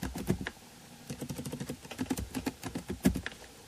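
Code is typed into Eclipse on a computer keyboard, producing rapid, uneven bursts of close, crisp key clicks with brief pauses.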